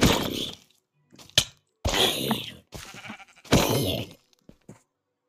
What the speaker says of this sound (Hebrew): שמעתי כבשה.